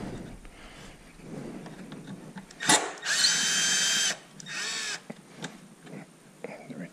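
A power tool works a Torx bolt on a Tesla Model 3 bumper in a garage, with two loud whirring bursts of about a second each and short clicks between them, heard close up with faint talk around them.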